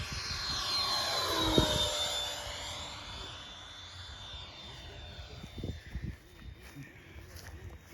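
A Carbon Z Cub model airplane flies past, its electric motor a thin high whine that sweeps down in pitch as it passes, fading into the distance with wind noise and brief voices nearby.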